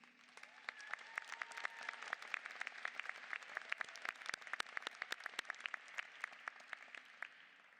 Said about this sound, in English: Please join us in one last round of applause for all of the outstanding students.